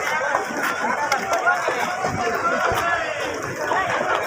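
Busy crowd at a chicken stall in a Malaysian pasar market on a rainy day, a steady babble of many voices, shouts and movement close around.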